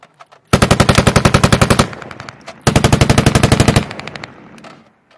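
An M240B machine gun on a live-fire range fires two long, loud, close bursts of rapid rhythmic shots, with a short pause between them and no talking.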